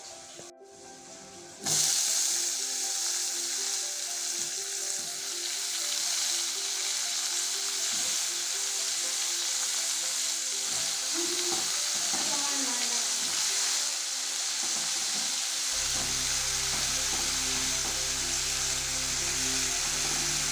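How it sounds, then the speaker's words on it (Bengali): Vegetables for a mild chicken stew fry in hot oil in a pan, with a loud, steady sizzle that starts after a brief quieter moment and runs continuously, accompanied by occasional stirring scrapes. "ভাজা ভাজা হয়ে গেছে, এবারে সবজিগুলো দিয়ে দিই।"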